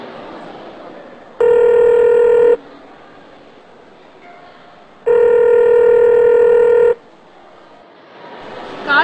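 A phone ring sounds twice in long electronic bursts, separated by a pause, with no one picking up; faint room noise fills the gaps.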